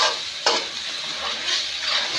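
Spices and onion roasting in a pan for a spicy potato and aubergine curry, a loud continuous close sizzle with a brief stirring scrape.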